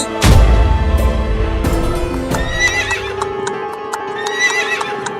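Horses being readied by bandits in a village comedy skit neigh loudly and clip-clop, with a sharp whinny opening and further neighing and hoof beats continuing close by, with no talk over them.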